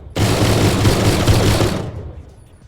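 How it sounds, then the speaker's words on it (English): An anti-air turret cannon in the Brick Rigs game fires a dense, loud burst of rapid shots that runs for under two seconds, then cuts off into a fading echo. "It also looks like a real battleship anti-air cannon"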